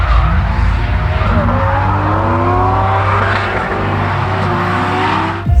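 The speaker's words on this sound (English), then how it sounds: "Loud, the smoke, cars going sideways" Drift cars slide sideways on a smoky motorsport track, tires squealing in long, loud, wavering screeches over continuous roaring engines, with several overlapping slides sweeping up and down in pitch throughout.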